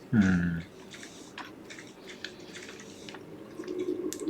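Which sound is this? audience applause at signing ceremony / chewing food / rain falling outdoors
chewing food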